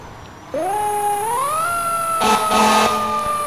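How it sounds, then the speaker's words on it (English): A fire truck siren from the EmergeNYC emergency-response game starts abruptly and wails upward, then a loud blaring air horn cuts in with a few blasts over the continuing siren. "Same siren, but I love the new horn."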